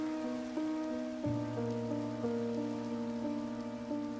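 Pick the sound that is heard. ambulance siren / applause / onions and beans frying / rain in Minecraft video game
rain in Minecraft video game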